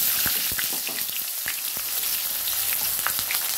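Chopped onion sizzles in hot oil with cardamom, cinnamon, cloves and a peppercorn for a Bengali mutton and potato curry, a steady close frying hiss broken by sharp crackles and pops, no voices.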